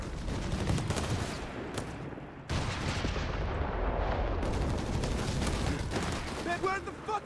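Sniper shots and artillery bombardment in Company of Heroes 3 as dense, continuous rumbling gunfire and blasts with sharp cracks, loud and sustained, with a brief dropout midway and a voice talking over it.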